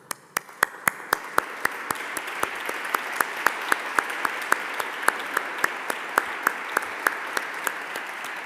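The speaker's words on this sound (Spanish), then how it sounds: "me gustaría daros un aplauso a todos vosotros" Audience applause at a Día de Aragón event in Teruel, with sharp, rhythmic claps in unison at a steady beat over a wash of scattered clapping, loud and continuous throughout.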